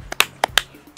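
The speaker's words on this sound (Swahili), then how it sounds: "Mpigie makofi" A few sharp, scattered hand claps or snaps ring out close by, cheering a child who answered a guessing game correctly; about five quick, uneven strikes with short gaps between them.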